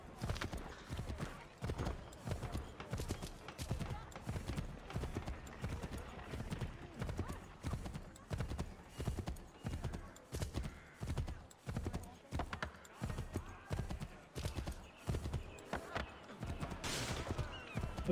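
Horse hooves gallop in a steady, rapid clip-clop rhythm through the Assassin's Creed III video game, loud and continuous with occasional whinnies and faint game effects in the background.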